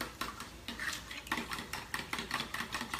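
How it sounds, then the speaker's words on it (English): Eggs whisked in a mason jar, fast rhythmic metallic clinks and scrapes of a utensil against glass, close and quiet, repeating in quick bursts. "So again, whisk it up."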